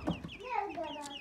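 Aseel rooster clucking close by in a short burst of throaty calls, a few quick clucks rising into a longer warbling note.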